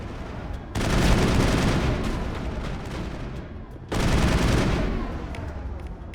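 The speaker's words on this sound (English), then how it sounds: "my boys are shooting at him" Sustained bursts of gunfire from squadmates in the Mass Effect video game, two dense rattling volleys with a brief lull between, loud and continuous.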